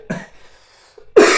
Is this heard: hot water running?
no